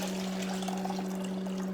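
Vinegar rinse water is poured off a bowl of strawberries in a steady, close trickle over a constant low electrical hum, with no talking.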